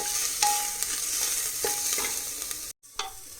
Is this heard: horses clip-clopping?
no